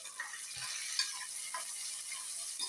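Chopped onions sizzle steadily in a hot pan, a continuous close frying hiss with occasional soft stirring clinks and pops throughout.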